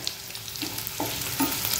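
Cumin seeds crackle in hot oil after fried green chilies, tempering for soaked sago, a close, soft sizzle with small popping bursts scattered through the short stretch.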